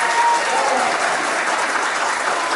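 Audience applause fills the room: dense, steady clapping from many hands, sustained and fairly loud throughout with no pauses.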